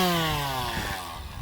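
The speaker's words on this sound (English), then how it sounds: "I'm sanding." A brief, loud, high-pitched whine of a power sander sanding paint on a 1978 Argosy travel trailer, winding down with a buzzy grinding texture.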